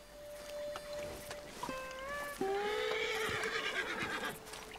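A spooked horse in the Red Dead Redemption 2 video game lets out a loud, close, shrill whinny that rises and wavers for a few seconds, with no other sounds over it.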